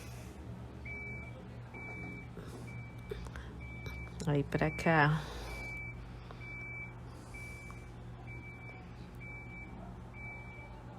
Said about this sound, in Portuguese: Esse barulho que vocês escutam aí no vídeo é que aqui eu moro em frente a uma garagem de ônibus escolar